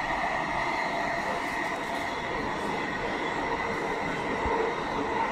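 A Warsaw metro train runs between stations on the line serving Bemowo and Ulrychów, giving a steady, loud, continuous rumble of wheels and motors heard from inside the car, with no talking.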